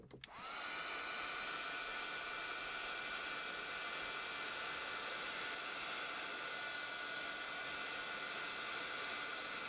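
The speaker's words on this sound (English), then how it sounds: "Hitting that with the heat gun a little bit." After a brief click, a heat gun switches on and blows a steady, close, airy roar while drying a painted art journal page, holding constant to the end with no speech.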